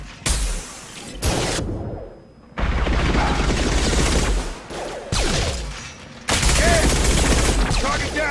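Gunfire in the video game Mass Effect 2 bursts out in loud rapid volleys separated by short gaps, with whooshes and impacts, while voices call out over the action.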